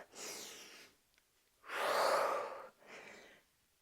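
Deep breaths during an intermediate Pilates workout: three long, close, breathy passes, a short one, a longer and louder one, then a softer one, separated by brief quiet gaps, with no talking.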